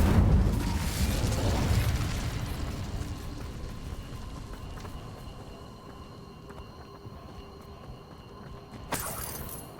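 Incendio fire spell cast in Hogwarts Legacy, a loud whooshing burst of flame at the start that decays into a crackling, fading rumble, with a small sharp accent near the end.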